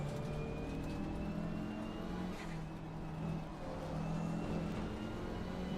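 GT race cars, including a BMW and a Porsche, run in a multiclass race at Spa in Assetto Corsa Competizione, giving off a steady droning engine whine that rises and falls slightly in pitch, fairly quiet and continuous.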